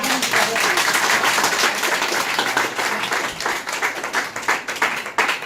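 Audience clapping continuously at a political party gathering in Ahmedabad, dense and steady throughout with some voices mixed in.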